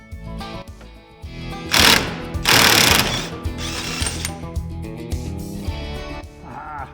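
A ground-down socket on U-joint extensions works loose a tight driveshaft yoke, giving loud close metallic clanks and ratcheting bursts with mechanical rattling between them.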